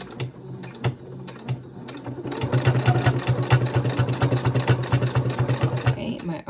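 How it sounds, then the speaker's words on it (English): A sewing machine stitches tote bag straps in a steady rapid rhythm, starting light and then speeding up into a loud, continuous mechanical chatter close by. "my arms are moving with the sewing machine"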